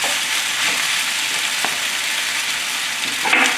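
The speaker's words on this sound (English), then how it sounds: "And then we're gonna give them a gentle stir." Steady, bright sizzling from chicken and vegetables stir-frying in a pan, with faint scraping from stirring, continuous and close, no voices.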